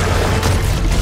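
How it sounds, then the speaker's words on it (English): A flashbang explosion from the Spider-Man 2 video game trailer, a dense, loud low boom that fills the whole moment without a break. "Peter, that flashbang."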